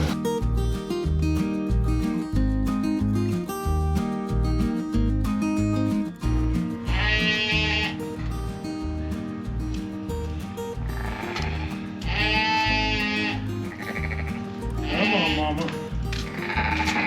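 Sheep and newborn triplet lambs bleating near a barn, several loud wavering bleats rising over a continuous backing of rhythmic music, recurring every few seconds.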